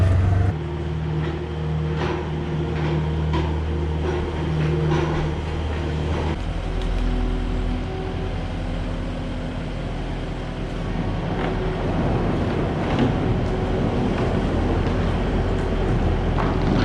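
A skid steer loader runs on a farm with a steady, loud low engine rumble and drone throughout, its tone roughening and growing busier in the second half as the machine works nearby.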